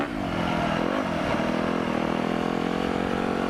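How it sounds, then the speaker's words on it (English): A KTM 350 motorcycle revs hard for a wheelie, its engine note rising and wavering in pitch, then settling into a loud, sustained drone close by. "Let's try a little wheelie here."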